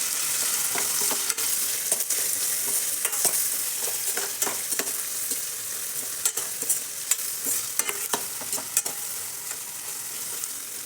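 Spices and masala with turmeric frying in oil in a pan, a steady close sizzle broken by repeated scraping stir strokes throughout, no voices.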